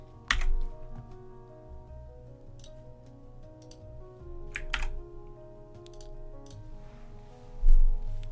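Typing on a computer keyboard: a handful of sparse, crisp keystrokes and clicks over a low steady hum, with one louder thump near the end.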